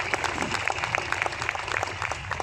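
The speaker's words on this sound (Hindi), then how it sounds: "जी हाँ, ताली बजाने लायक है" Audience applause at a church peace festival, a steady patter of many hands clapping at moderate distance over a low hum.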